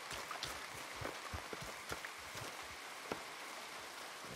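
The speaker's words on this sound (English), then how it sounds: "Come on, it's raining." Rain falls in the video game Red Dead Redemption 2, a soft, constant patter with scattered sharper drops, faint and with no talking.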